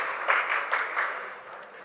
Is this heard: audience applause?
yes